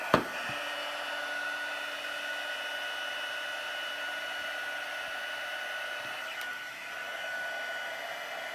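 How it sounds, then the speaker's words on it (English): An embossing heat tool blowing hot air, a steady loud whirring fan hiss held continuously after a click at switch-on, with no talk. "I like to get my heat tool hot before I start using it"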